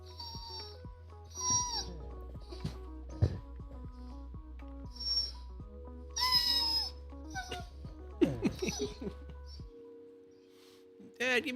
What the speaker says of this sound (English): Hound dogs are pretty vocal.